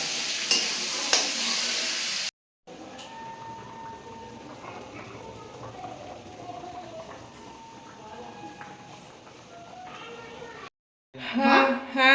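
Soybean curry cooks in a pan with a steady sizzle and gentle stirring that run through most of the clip, mixed with faint background voices and a short cut in the middle.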